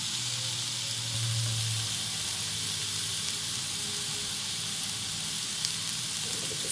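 Sliced onions frying in a pan for turkey burgers, a loud continuous sizzle with a faint low hum beneath, steady throughout with no talking.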